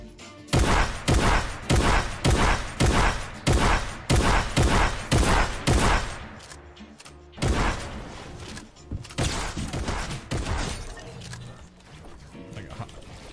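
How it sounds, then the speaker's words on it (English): Combat shotgun in Fortnite fires about a dozen loud, evenly spaced blasts in quick rhythm, followed by a denser clatter of mixed shots and impacts. "Take a look at how far away the combat shotgun can deal damage."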